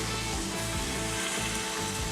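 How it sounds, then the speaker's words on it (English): Pork sizzles steadily in a hot pan with a dense, continuous hiss and faint crackle, constant in loudness throughout and with no voices present. "Let's sizzle a bit."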